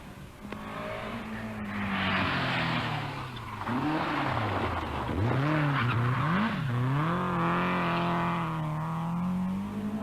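A rally car engine roars hard on a 1983 Cork rally stage, revving up and down through gear changes as it accelerates, loud and close with a rasping exhaust.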